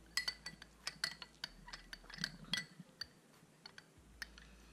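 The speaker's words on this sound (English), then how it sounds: "we're going to give it a lovely stir" A spoon clinks repeatedly against a glass while stirring an apple cider vinegar and lemon drink, a quick irregular series of light, close taps and rattles at low volume.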